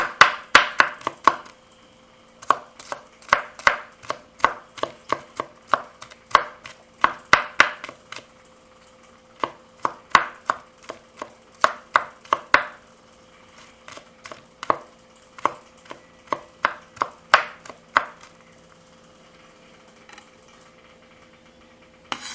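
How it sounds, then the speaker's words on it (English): Steady knife mincing on a cutting board, many sharp close taps in quick irregular bursts with brief pauses, clear and alone, while preparing susumba (gully bean) seasoned rice. "I'm going to go ahead and just mince it."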